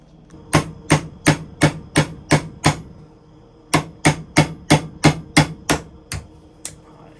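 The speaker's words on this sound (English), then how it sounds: "we fix to go over there on the vise and cut that pin" A pin on a Camillus knife clamped in a vise is struck in two runs of sharp metallic blows, six then seven in steady rhythm, close and loud with a short pause between sets.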